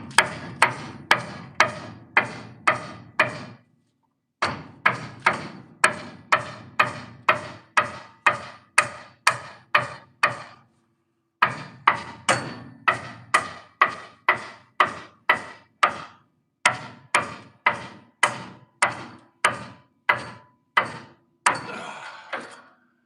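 Steady hammering on a 1974 Ford F250 truck, dozens of sharp metallic blows in quick regular bursts with short pauses between runs, loud and close with no talking.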